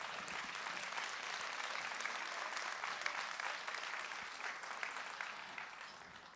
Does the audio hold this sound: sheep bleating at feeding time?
no